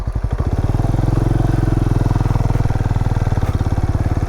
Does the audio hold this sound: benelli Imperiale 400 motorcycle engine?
yes